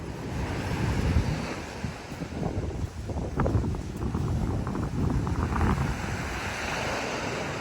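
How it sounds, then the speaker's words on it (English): Surf rolls onto a beach at Son Tra Peninsula, Vietnam, a continuous loud wash of breaking waves with strong wind buffeting the microphone. "a dynamic beach like this where it's constantly being reshaped by the waves"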